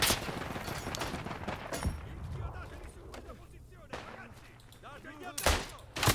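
Gunfire and a grenade explosion in the World War 1 mountain warfare game Isonzo: scattered sharp shots and a few heavier blasts, the loudest bursts near the end, with someone talking over parts of the action.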